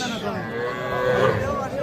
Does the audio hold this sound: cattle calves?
yes